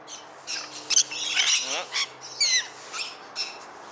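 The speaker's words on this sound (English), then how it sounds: "Oh my gosh, I have so many birds on me!" Several birds perched on a person squawk and chirp in short, scattered bursts at close range, with quiet gaps between the sharp calls.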